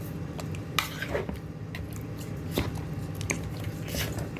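Chicken being mixed by hand with egg and flour in a bowl, giving a steady wet squishing with soft clinks against the dish, close and continuous, with no talking.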